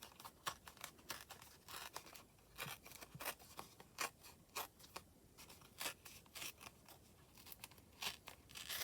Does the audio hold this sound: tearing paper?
yes